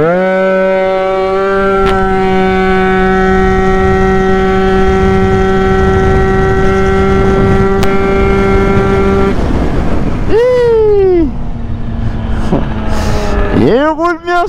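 Moped fitted with a Stage6 MK2 engine revving hard and pulling away: a loud, steady high-pitched two-stroke whine that holds, then drops and climbs again through gear changes, close to the listener.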